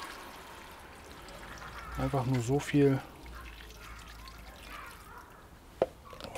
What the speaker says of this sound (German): Jetzt gießen wir das Ganze schön mit Wasser auf.